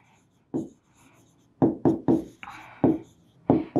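Writing on a board during a math lesson: a series of short, crisp strokes and taps in irregular bursts, close and clear against a quiet room.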